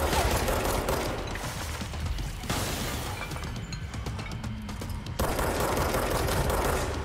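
Video-game gunfire in dense continuous bursts of loud crackling shots with shattering impacts, dipping briefly in the middle before surging back to full intensity.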